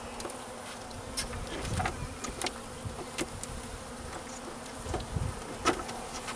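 A dense swarm of honeybees buzzes continuously close by as package bees are installed into a hive, with scattered clicks and bumps breaking through the steady drone.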